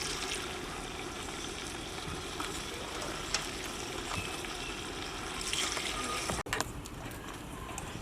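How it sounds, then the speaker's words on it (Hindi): Water pours steadily into a cooking pot for beef shorba with a soft, continuous splashing gush, fairly quiet, with a brief clunk near the end. "शोरबे के लिए पानी मैंने शामिल कर लिया है"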